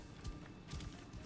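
Horse hooves galloping in the Assassin's Creed Origins video game, a few quick muffled clip-clop impacts in short bursts, fairly faint.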